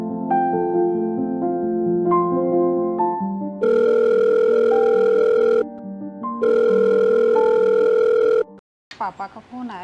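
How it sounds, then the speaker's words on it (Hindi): A phone plays a melodic ringtone with repeating electronic tones, loud and close, pausing briefly between phrases before a voice answers at the end. "पापा का फोन आया है।"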